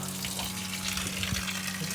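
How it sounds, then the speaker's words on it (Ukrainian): Water drains from a radiator in a steady, close rush, a continuous gushing stream with a low hum underneath. "Так, вода пішла."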